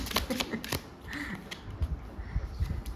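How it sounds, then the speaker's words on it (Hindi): Tarot cards being shuffled close by, with quick flicking riffles and soft taps in bursts, followed by lighter rustling and handling sounds. "इतने सारे कार्ड्स बस शफल करते ही जो है वो इतने सारे कार्ड्स हमारे पास आ चुके हैं"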